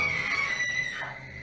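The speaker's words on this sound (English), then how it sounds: "suddenly a woman's scream is heard" A woman's scream rings out in a short, high, sustained cry at moderate loudness, fading slightly toward the end, heard at about 2:40 in the morning.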